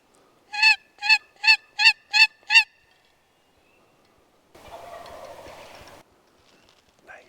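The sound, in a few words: wild turkey gobbling in forest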